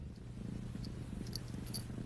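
A pet cat purrs steadily up close while waking its sleeping owner, a soft continuous rumbling throb that is quiet yet clear, with a few tiny clicks and no talking.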